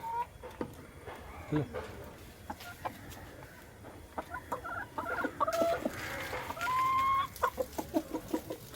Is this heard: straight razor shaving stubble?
no